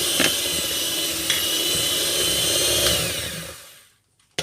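An electric mixer whirs steadily at close range while buttercream cake batter is mixed with milk, with a couple of brief knocks against the bowl before the motor cuts off and goes quiet.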